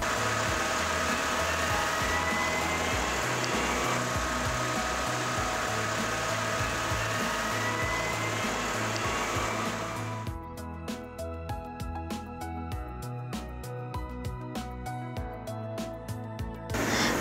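A Laserbox laser cutting machine works through hardboard: a steady mechanical hum fills the first half, then gives way to rapid, irregular ticking and clicking over a lower running drone, close and moderately loud.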